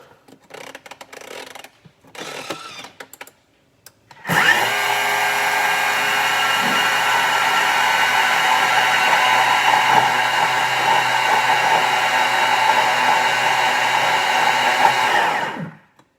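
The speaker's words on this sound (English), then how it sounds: "you can mill it down to icing sugar" A few soft rattles and clicks, then a loud, high whirring blade spins steadily for about eleven seconds in a Thermomix milling sugar into icing sugar, before cutting off abruptly.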